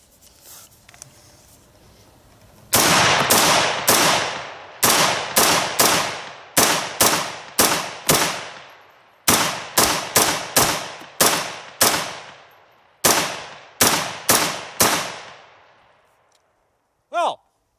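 An AR-15 rifle firing 7.62x39 Silver Bear steel-cased ammunition, with loud sharp shots in quick bursts and single rounds, each followed by a short decay.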